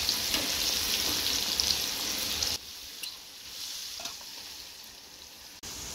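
Sweet corn kernels sizzle and fry in a kadhai, a dense steady crackle that abruptly drops to a quieter sizzle with scattered pops partway through.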